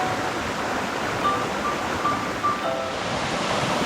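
Steady broadband rush of a waterfall on a hike in Jardín, Colombia, continuous and fairly close with no breaks, faint wind over it and no voices.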